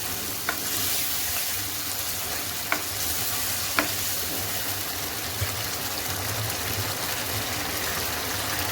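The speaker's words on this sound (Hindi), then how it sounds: "जी आलू जो है भून चुके हैं।" Potatoes fry in a pan for a brinjal and potato sabzi, a steady broadband sizzle running throughout with a low hum underneath and a few sharp clicks of a spoon against the pan.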